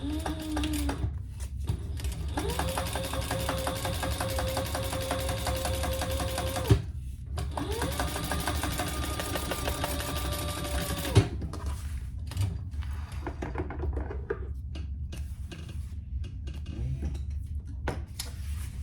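A sewing machine top stitches a crossbody bag, running in long steady bursts of rapid mechanical whirring and ticking, close and fairly loud, with two brief pauses marked by clicks before it resumes.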